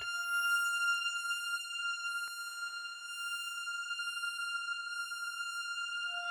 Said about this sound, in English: I want a sort of a long echo. Which I'm going to blur further with a long reverb